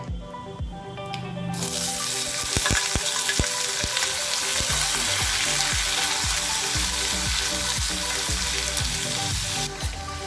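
Small pieces of pumpkin stir-fry in a pan with mustard seeds and curry leaves, a steady close sizzle with scattered pops and scraping stirs running throughout, and no talk.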